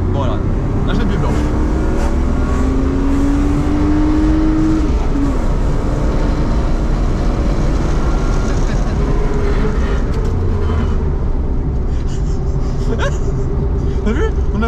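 A car with heavy tyres rolls along slowly, its low engine drone and road rumble steady and continuous throughout, with a brief rising whine partway through and faint movement noises on top.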